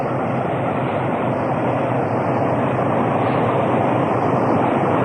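An ALCo diesel locomotive on the Long Island Railroad's Port Jefferson branch, near the Smithtown Viaduct, gives a loud, constant roar and rumble heard from up close without a break.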